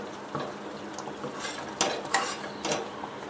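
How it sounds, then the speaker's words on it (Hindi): A spoon scraping and clinking against a pan as milk cream is stirred into ghee over a medium flame, a few sharp metallic taps over a soft background sizzle. "बस अब इसे हिलाते रहना है, चम्मच चलाते रहेगा"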